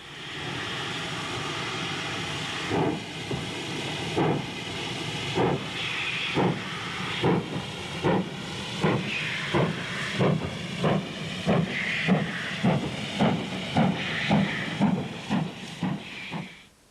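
A Hall class steam locomotive departs Quorn, starting with a steady hiss of steam before loud, regular exhaust chuffs that pick up pace and grow stronger as it pulls away.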